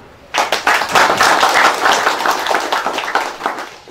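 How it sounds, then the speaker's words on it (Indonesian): Loud, dense applause from an audience close by at a Youth Pledge (Sumpah Pemuda) literacy talk, a burst of many hands clapping together that holds steady for a few seconds. "Jadi untuk Sumpah Pemuda kita, mari kita tepuk tangan."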